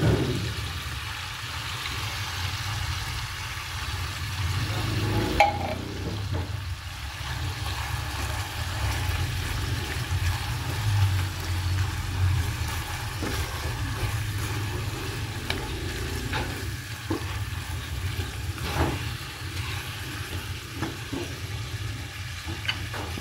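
Chicken and jolly mushrooms in a creamy mix sizzle softly in a pan, a steady low frying hiss under occasional faint stirring clatter.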